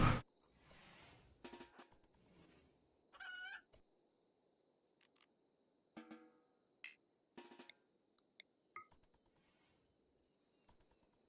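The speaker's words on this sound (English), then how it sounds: "That's a rooster." A rooster in a prison colony video game crows several times in short, separated bursts against a quiet background, with a faint insect-like hum underneath and a few clucks between calls.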